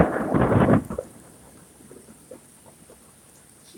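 Thunder from a lightning strike during a nearby storm: a loud, broad rumbling burst lasting under a second, then fading into quiet rain-like background with faint scattered sounds.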